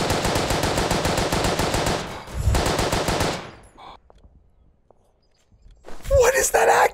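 Loud rapid automatic gunfire in the World War I shooter game Verdun, a long stream of fast shots lasting a few seconds before cutting to near silence, followed by a voice speaking at the end.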